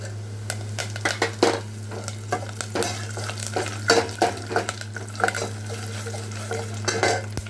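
Curry leaves sizzle in hot oil while a tempering of lentils fries for instant puliyodarai tamarind rice, with steady frying crackle, scattered stirring scrapes and utensil clinks throughout, no talk.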